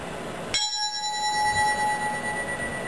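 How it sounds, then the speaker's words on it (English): Brass Zildjian cymbal struck once with a stick, a sharp hit followed by a bright, lingering ring that shimmers and slowly fades. "And you hit it with a stick, and it makes a oscillating kind of sound."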